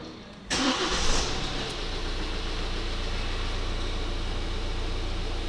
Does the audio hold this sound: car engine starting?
yes